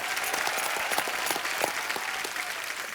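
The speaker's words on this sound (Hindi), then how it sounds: "जोरदार तालियां भी इनके लिए।" Studio audience applause on a comedy talk show, a steady wash of many hands clapping at moderate level throughout, with no talk over it.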